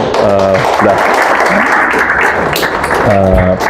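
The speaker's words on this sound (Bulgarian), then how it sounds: "благодаря за аплодисментите" Applause from a seminar audience in Sofia, a dense steady clatter of many hands throughout, with a voice speaking over it near the start and again near the end.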